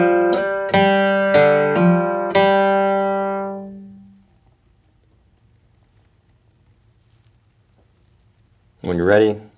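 Acoustic guitar picks the third measure of a country bluegrass lick in G, several plucked notes that ring out and decay into near silence, followed by a brief burst of voice at the end.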